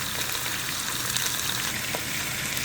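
Birria meat sears in a hot pan, giving a continuous loud crackling sizzle that holds steady throughout, close and with no voices.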